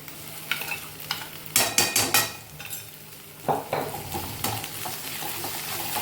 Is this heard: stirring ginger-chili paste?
yes